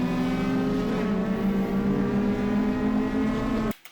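Rally car accelerating hard up a drag strip at a Targa rallysprint, a loud, steady high-revving engine with rising harmonics heard from inside, cutting off abruptly near the end.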